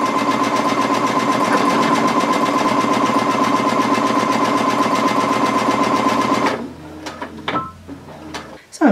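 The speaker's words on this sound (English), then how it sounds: "I've just put it back on the machine and I'm going to sew again with an eighth of an inch from the top." A sewing machine stitches a fabric drawstring gift bag in a fast, steady mechanical chatter for several seconds, then stops, leaving a few faint clicks and handling sounds.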